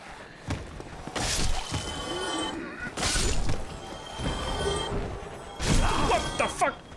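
Wooden barrels smash apart in Dark Souls Remastered, three separate crashing bursts of splintering impacts, loud and close, with game ambience and a voice talking between them.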